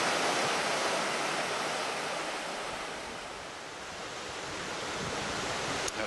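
Water rushes through small rapids at an old log chute in Algonquin Park, a steady broadband roar heard close and fairly loud that swells and eases slightly, with no voices.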